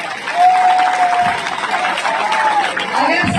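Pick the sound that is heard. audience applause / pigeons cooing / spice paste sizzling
audience applause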